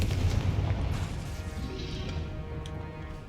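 A Confringo blasting spell in the Hogwarts Legacy video game sets off a deep, booming explosion at the start, and the rumble fades over the next few seconds with no talk.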